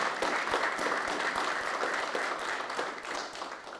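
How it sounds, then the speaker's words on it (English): An audience at a Dare County emergency operations press conference gives a round of applause for the emergency team, steady dense clapping that holds for several seconds before easing off. "I'd like to recognize them right now with a round of applause"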